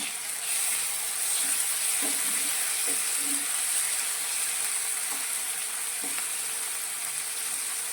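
Steady, close sizzling of garlic and green chillies frying in oil in a pan as chopped tomato goes in, a continuous hiss with occasional soft pops and light scraping clicks.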